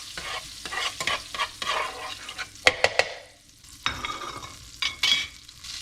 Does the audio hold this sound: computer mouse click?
no